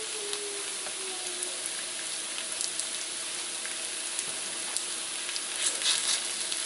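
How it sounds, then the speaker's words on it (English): Beef sizzles in a pan of hot oil on high heat, a steady crackling hiss with scattered pops, moderately loud and continuous with no talk. "Now that it's on high, I'm gonna let it sit there for a bit so it could brown on one side."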